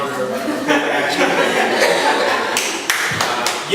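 An audience claps and chuckles at a business talk. Scattered claps and light laughter mix under a voice, with sharper clap bursts near the end.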